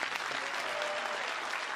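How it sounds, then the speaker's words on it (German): A cinema audience claps loudly at a star visit screening, steady dense applause filling the hall throughout the brief moment. "Nochmal einen großen Applaus bitte."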